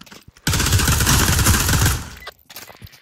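Gunfire in a VR video game: a loud, dense burst of rapid automatic fire lasting about a second and a half, close and dominant, then cutting off into quieter scuffling noise.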